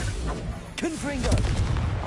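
A Confringo spell explosion in the Hogwarts Legacy game hits as a sharp, loud boom, followed by rising and falling vocal-like cries and scattered impacts over continuous low battle rumble.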